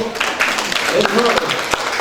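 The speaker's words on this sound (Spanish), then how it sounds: "desen un aplauso bien fuerte a todos" A gathered audience gives loud, sustained applause, dense clapping with a few sharper claps standing out and voices mixed in.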